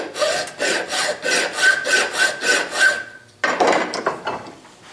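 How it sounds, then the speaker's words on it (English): A Nicholson file rasps in rapid back-and-forth strokes across a 5/8 socket clamped in a vise, about ten quick rubbing passes, a short pause, then a second burst of filing, close and loud. "So I put the 5/8 socket in a vise here, and I got a Nicholson file."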